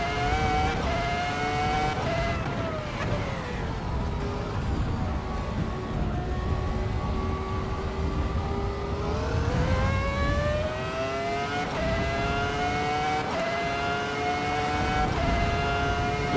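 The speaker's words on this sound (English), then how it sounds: "any person that likes cars appreciates the Ferrari 2004 sound" A Ferrari 2004 engine sound in a Volvo driving simulator video game, heard loud and continuous with steady harmonic engine tones that rise and fall through several rev changes and gear shifts.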